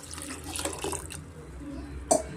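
Water is poured into a pot while cooking broken wheat bisibele bath, a soft continuous splashing stream at close range, with a brief louder splash near the end.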